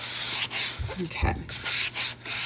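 Sealant being rubbed by hand into a handmade custom gift, making a close, continuous scrubbing and rubbing sound with brief pauses between strokes.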